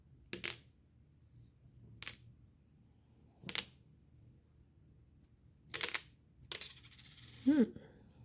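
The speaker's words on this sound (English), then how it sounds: "a little bit of noise with placing the charms and the cards" Charms and cards set down on a table one at a time, producing several separate soft clinks and taps with quiet pauses between them, recorded close up in a calm room.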